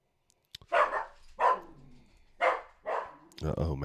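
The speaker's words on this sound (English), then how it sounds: "Uh-oh, Max is barking." A dog barking indoors at close range, four loud separate barks spaced about a second apart, followed by a burst of other noise at the end.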